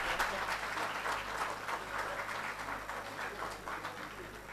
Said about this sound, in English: Can we have a louder applause